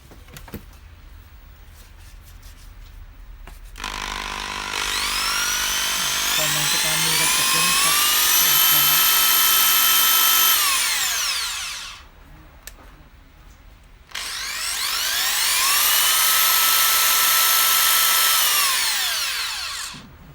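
A Makita 6904VH 1/2-inch electric impact wrench whirs loudly in two long bursts, spinning up to a steady high whine and winding down, with a quiet pause between runs.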